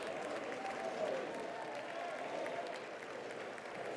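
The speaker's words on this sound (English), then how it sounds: "it's a smattering of applause from the Oregon State fans" Scattered applause from Oregon State fans at a college baseball game against UNLV rises and lingers for a few seconds as a soft, distant crowd sound.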